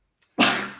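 A single close, sharp sneeze bursts out alone and quickly trails off, interrupting a football podcast discussion.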